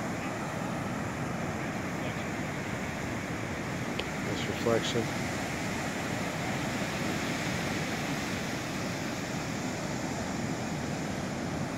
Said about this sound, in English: Zen waves there.